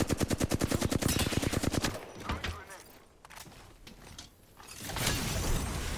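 Rapid automatic gunfire from the Apex Legends video game, a loud fast burst of shots for about two seconds, then quieter game sounds with scattered effects before another loud stretch of firing and action.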